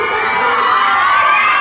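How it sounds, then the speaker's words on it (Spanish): An audience at a regional fair presentation of candidates in Nopalucan, Puebla cheers and shouts loudly for a brief moment, a dense, bright wash of crowd voices and applause with no single voice standing out. "¡Aplausos!"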